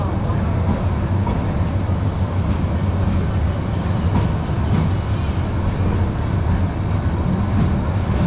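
The Cox's Bazar Express from Dhaka pulls into Cox's Bazar railway station with a dense, continuous, loud rolling rumble and faint clatter of wheels on track, unbroken for the whole stretch.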